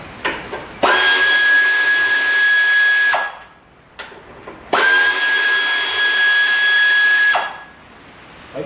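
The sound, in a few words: air tools removing bolts from Kubota BX25D backhoe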